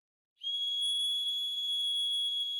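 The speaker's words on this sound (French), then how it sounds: "C'est pas un sifflet pour les chiens à ultrasons, c'est un sifflet qui siffle." A single shrill, steady whistle blast starts abruptly and holds unbroken, loud and close, with no voices.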